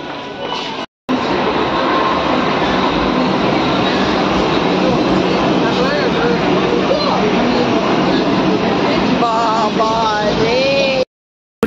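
A Kolkata metro train runs toward Park Street, a loud continuous roar of wheels and motors with rattling carriages and rising squeals and whines near the end, heard from inside the moving car.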